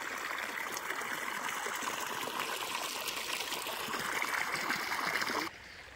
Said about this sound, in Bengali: মোটরে জল উঠছে।